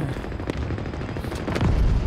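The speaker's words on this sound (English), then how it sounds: "Sniper got a headshot on us." Gunfire in a Halo multiplayer match, a sniper rifle among it, heard as dense overlapping shots and low booms filling the whole moment, with heavier blasts toward the end.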